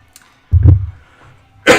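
A single close cough, followed moments later by a short sharp exhale or second cough burst, in otherwise quiet surroundings.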